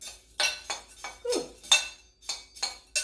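Metal utensil clinking and scraping against a pan while food is stirred and tossed, sharp irregular clanks about twice a second, close and fairly quiet, with no speech.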